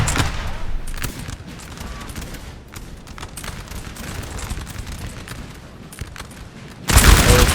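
Polish line infantry fire musket volleys in the Napoleonic battle game Napoleon Total War, a ragged crackle of shots rolling on continuously before a louder, denser volley bursts in near the end.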